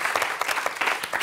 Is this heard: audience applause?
yes